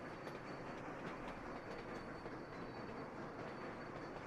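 Train running in the video game Sweet Transit, a steady quiet rumble with a regular clickety-clack of wheels over rail joints, continuous and without talk.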